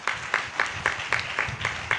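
Rhythmic hand clapping from a church congregation during a Christmas service, roughly eight evenly spaced beats in two seconds, steady and moderately loud.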